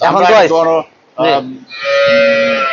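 A Friesian dairy cow moos loudly and close by, a few calls in a row, the last one long and drawn out.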